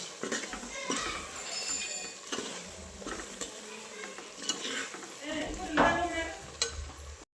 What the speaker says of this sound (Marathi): आधी हे सगळं मिक्स करून घेते व्यवस्थित